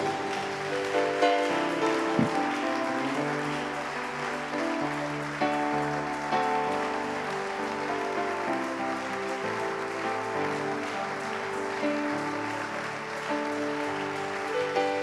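A church congregation applauds and acclaims Jesus at a service, a steady wash of clapping and cheering sustained alongside music throughout.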